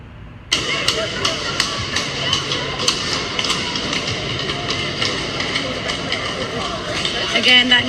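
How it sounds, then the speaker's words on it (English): Protesters drum on a fence at a live-streamed street protest, an irregular run of sharp metallic bangs and thuds that starts abruptly and continues loudly, with a voice talking over it. "that noise you're hearing is the protesters drumming on the fence"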